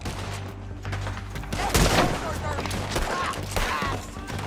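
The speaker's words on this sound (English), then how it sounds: "Told you I could shoot a gun, didn't I?" Western-era gunfire in Red Dead Redemption 2, a chaotic burst of overlapping shots and booms over rumbling ambience, loud and close, with voices mixed in.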